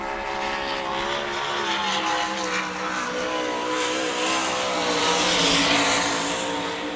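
A sprint car at full throttle on a qualifying lap at Lernerville Speedway in Sarver, Pennsylvania, during an All Star Circuit of Champions Speedweek show, its engine roaring loudly and steadily for several seconds with no talk.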